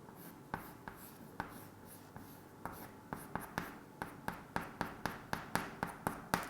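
Chalk or marker tapping and stroking a classroom board as small book shapes are drawn during a lesson, a steady run of short, sharp taps that grows quicker and more regular toward the end, with no talking over it.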